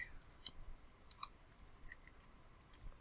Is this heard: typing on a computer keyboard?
yes